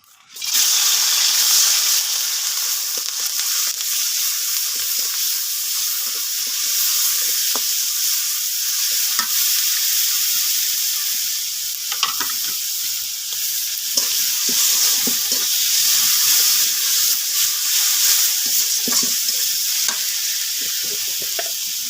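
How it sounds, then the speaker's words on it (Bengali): Onion-garlic paste fries in oil in a wok with a steady, loud sizzle that runs continuously from start to finish, broken by occasional scrapes and stirs of a utensil against the pan. "কড়াইতে তেল দিয়ে দিচ্ছি রান্না করার জন্য, পরিমাণ মতো তেল। তেলের ভিতর দিয়ে দেব পেঁয়াজ রসুন বাটা"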